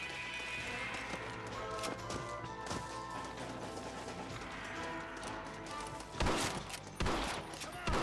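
Scattered gunfire in Red Dead Redemption, distant shots over galloping horse hooves, with a couple of sharper, louder reports near the end.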